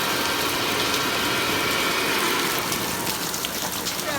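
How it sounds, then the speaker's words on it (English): Heavy monsoon rain pouring down outdoors at an African-style cooking spot, a dense, continuous loud hiss of drops on surfaces without pause. "Now is the heavy rain."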